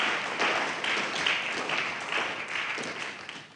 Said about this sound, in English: Please, a round of applause for our chair.